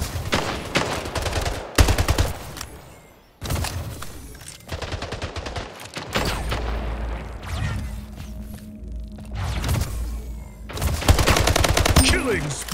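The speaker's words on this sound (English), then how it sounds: "The rail gun." The rail gun in the video game Splitgate fires amid dense game audio, with loud sharp blasts and bursts of gunfire up close, interrupted by brief gaps and layered with other effects.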